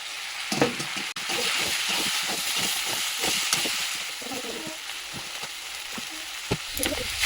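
Soya chunks dropped into a hot frying pan with pumpkin, potato and spices, hissing in a loud steady sizzle with rhythmic scraping stirs and a few knocks of the spatula.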